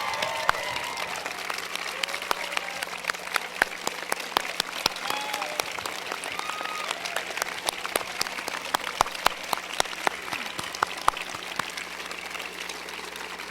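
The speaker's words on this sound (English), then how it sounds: "give a round of applause to the faculty and staff who have helped you" Scattered applause for faculty and staff at a college commencement ceremony, sharp individual claps spread through a large hall, fairly distant and even, continuing steadily without speech.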